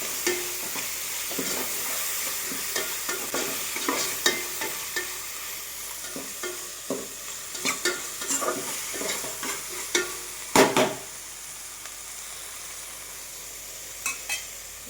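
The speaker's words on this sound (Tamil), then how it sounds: "வெங்காயம் தக்காளி பூண்டு பச்சை மிளகாய் கருவேப்பிலை எல்லாமே சேர்த்து நல்லா வதக்கி விட்டுருக்கேன்" Onion, tomato, garlic, green chilli and curry leaves sautéing in a pan, a steady close sizzle broken by repeated scraping taps of a spoon stirring against the pan, with no talking.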